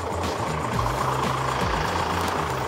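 A vehicle engine runs steadily close by at a moderate level, with a low, droning rumble and a repeating tonal pattern over the top, no voices.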